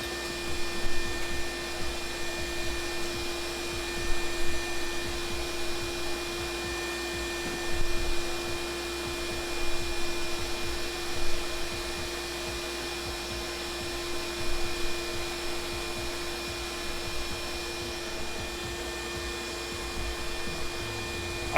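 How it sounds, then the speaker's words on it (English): A concentrated vacuum runs on a DIY CNC mill, giving a steady, fairly loud mechanical whir with a constant tonal hum, unbroken and with no talk throughout. "so that you guys don't have to listen to the concentrated vacuum noise."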